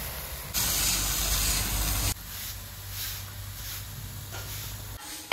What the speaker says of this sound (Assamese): এতিয়া গৰম পানী ইফালে হেৱালি ফুলত পানী দি দিলো এনেকে